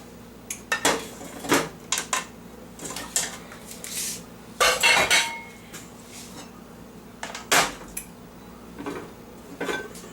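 A metal pot lid clatters and clinks against a frying pan as it is set on top during the cooking of Haitian fried pork, with scattered sharp close metallic knocks and rattles.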